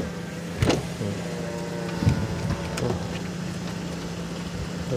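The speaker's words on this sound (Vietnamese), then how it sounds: "Kính lên xuống rất là mượt nha chị em" Power windows on a 2014 Chevrolet Aveo run up and down in a few short motor whirs over a steady low cabin hum, close by with no talking.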